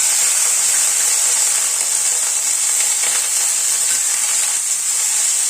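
Diced tomatoes and broken green chillies sauté in ghee, giving a steady, loud, continuous hiss of frying throughout with no talking.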